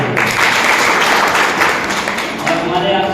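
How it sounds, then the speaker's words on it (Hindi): A burst of loud, sustained applause from a crowd at a direct selling business meeting, dense clapping that fades a little toward the end. "बार आपके लिए जोरदार तालियां"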